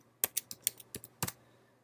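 Quick burst of about ten crisp keystrokes on a computer keyboard while a folder name is typed, close and clear with a brief pause near the end, no voices.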